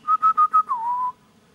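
A man whistles a short tune on a TV show: four quick clear staccato notes followed by a longer note that slides down and holds, loud and close, then silence.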